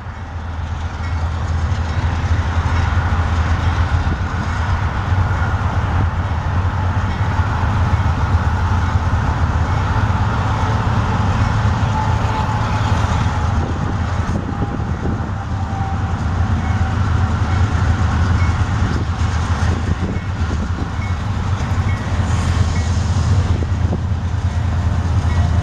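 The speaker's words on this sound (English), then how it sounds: "Northbound UP 7235 on the Union Pacific." A Union Pacific freight train, UP 7235, passes northbound with a steady low rumble and wheel noise that holds throughout, plus a faint high squeal partway through and occasional rattling clanks.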